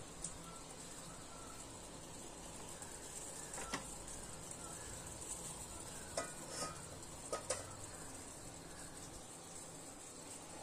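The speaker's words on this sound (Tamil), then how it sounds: "இப்போ தண்ணியும் மசாலாவும் நல்லா கொதிக்க ஆரம்பிச்சிச்சு" A pot of water and spices bubbles and simmers with a steady hiss, with a few faint clinks and ticks coming through.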